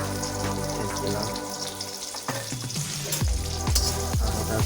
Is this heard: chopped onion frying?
yes